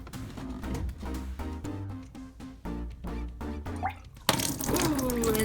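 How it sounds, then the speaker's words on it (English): RODI water pumped from a basement tote up into a reef aquarium's ATO container: rhythmic gurgling spurts, then a sudden louder rushing gush of water near the end. "I can pump RODI water from the basement up here to my ATO container"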